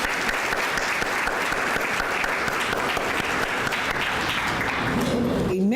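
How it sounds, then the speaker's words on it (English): An audience bursts into steady, dense applause that fills the space evenly for several seconds, with no talk over it until a voice begins right at the end. "we thank you and applaud you."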